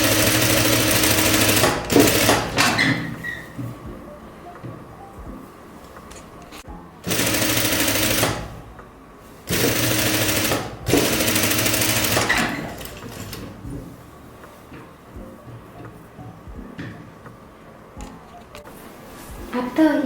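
A sewing machine stitches a jumpsuit in several loud, close bursts of rapid whirring, separated by quieter pauses. Background sounds fill the gaps between runs.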